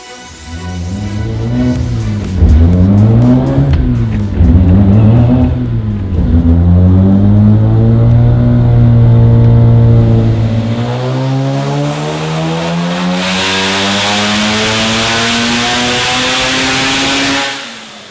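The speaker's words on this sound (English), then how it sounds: "Time to fire it up for initial checks and dyno tuning. Who doesn't love that rotary brap?" A Mazda RX7 Spirit R rotary engine on a dyno, idling with a choppy brap and then revving in repeated pulls before one long, loud sweep up through the rev range that ends abruptly.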